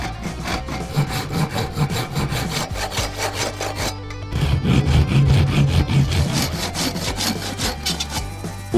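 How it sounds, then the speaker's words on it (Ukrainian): A hand saw rasps steadily through a wooden axe handle in quick back-and-forth strokes, loud and close, continuing without pause. "Спочатку позбавляємося від пошкоджених кінців, просто відпилюємо їх пилкою."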